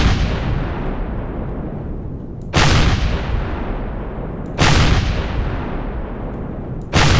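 Heavy weapon fire destroying turrets in the space survival game Empyrion: three loud booming blasts, each with a sharp onset and a long rumbling decay, roughly two seconds apart.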